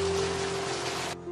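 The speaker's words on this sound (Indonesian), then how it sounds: "Mana hujan lagi?" Steady rain falls at night in a dense, even hiss with a low hum running beneath it, cutting off abruptly near the end.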